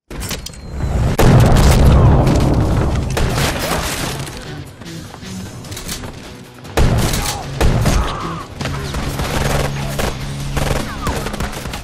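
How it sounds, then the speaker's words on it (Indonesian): Heavy gunfire and booming blasts fill a film shootout, loud and dense, with bursts of rapid fire, crashes and a short lull before the shooting resumes. "Baku tembak pun berlangsung dengan sengit."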